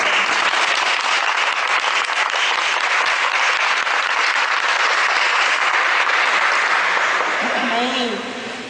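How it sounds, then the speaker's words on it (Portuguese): A church congregation applauds steadily and loudly for most of the stretch, a thick wash of clapping that fades near the end as a voice begins. "Vamos aplaudir essa palavra, gente?"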